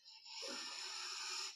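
One long, deep breath drawn in during a chair yoga session, close and soft with an airy hiss that holds steady, no talking.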